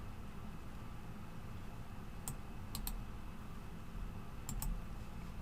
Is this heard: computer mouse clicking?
yes